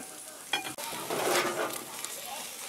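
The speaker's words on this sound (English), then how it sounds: "So you just scooch the butter around" Butter sizzles in a hot pan while it is pushed around, giving a steady close hiss with a few scraping and stirring sounds from a utensil against the pan.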